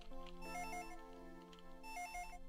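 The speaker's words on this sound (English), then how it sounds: "The phone is ringing in the living room." Telephone ringing in a living room within a video game, a faint electronic ringtone with two bursts of bright repeating tones over a sustained musical backdrop, no speech.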